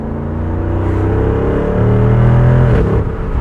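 A deep, throaty V8 engine of a 2024 Jeep Wrangler 392 roars steadily from inside the moving open-top vehicle, swelling louder as it revs, with a constant low rumble throughout.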